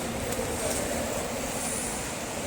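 A passenger train bound for Bombay Central rumbling along at a steady level, a continuous broad roar of wheels and carriages with a faint high squeal.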